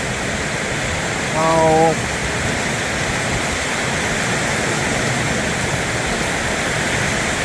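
Heavy storm rain in Thailand, driven sideways by high winds, a loud unbroken roaring wash of water filling the whole scene, with one brief exclaimed voice early on.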